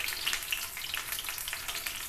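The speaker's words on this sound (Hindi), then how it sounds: "इसको सरसों तेल में ही फ्राई कीजिएगा" Banana pakoras frying in mustard oil over a high flame, a dense, steady sizzle with crackling pops, close and continuous, with no voices.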